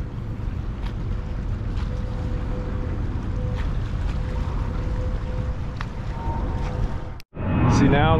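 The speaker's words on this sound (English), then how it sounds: "We got a bunch of boats came at once, so we're gonna get some wakes here" Boats pass along the Elizabeth River channel in New Jersey, heard from a kayak as a steady broadband engine and water rumble with wind buffeting, cut off by a brief pause near the end.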